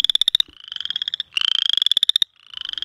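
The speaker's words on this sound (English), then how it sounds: "The male call is a short, rising, squeaky trill, which sounds like raking your fingernail over the teeth of a small pocket comb." Male frog, about an inch long, calling in spring: a short, rising, squeaky trill of rapid pulses like a fingernail raked over comb teeth, repeated three times up close and loud with brief gaps.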